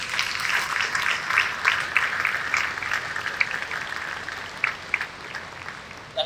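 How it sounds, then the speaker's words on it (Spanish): A church congregation claps for the Lord in a moderately sized, uneven round of applause. Several louder individual claps stand out, and the clapping continues loosely for about six seconds. "Dale un aplauso al Señor"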